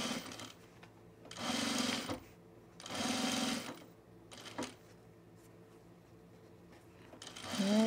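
A sewing machine stitches piping onto a baby bag in two steady bursts of a second or so each, separated by pauses, with faint handling noises between runs and no talking.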